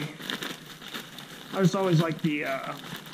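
Raw chicken is shaken in a plastic bag with flour for dredging. Soft crinkling and rustling of the plastic comes in bursts, and a person's voice speaks partway through.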